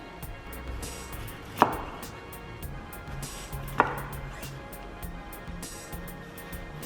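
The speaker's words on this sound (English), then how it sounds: "then I'm also going to cut up the last lemon just to show little rounds" A knife chops through a lemon on a cutting board, cutting it into rounds: two sharp board knocks about two seconds apart amid soft slicing and scraping, close and fairly quiet.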